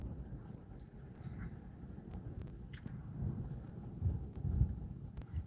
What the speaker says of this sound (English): Ooh, it's windy. It's windy.